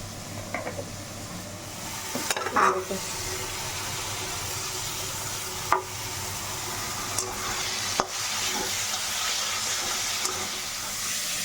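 Keema curry sizzles and hisses steadily in a pan after turmeric water is added, a soft continuous fry with a few sharp clinks of stirring.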